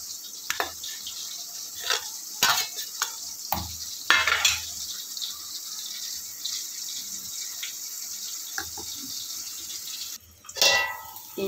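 Bitter gourd being stir-fried in a pan until soft, with scattered utensil scrapes and stirring clatter over a steady low sizzle, ending in a brief burst of running water near the end.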